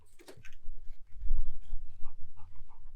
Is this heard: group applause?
no